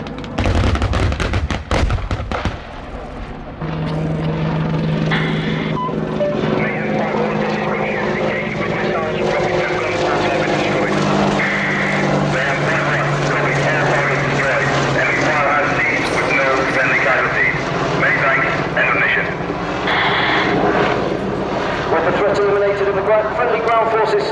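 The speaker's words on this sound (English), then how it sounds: "Jim will now fly a short routine to display the Apache's impressive" An Apache attack helicopter flies a display routine at an air show, its loud rotor and engine roar carrying steadily throughout, with sharp bangs and crackles like pyrotechnics near the start and a commentator talking over it.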